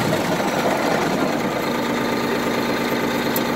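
A Mahindra 180 PTO-driven fertilizer spreader runs on a 24 horsepower Mahindra HST tractor, giving a loud, constant mechanical drone and rattle close by, with no talk.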